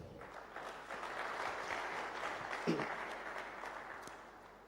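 Audience applause fills a hall at a Benue international investment and economic summit, a steady sustained round of clapping from a large crowd that swells and then fades toward the end.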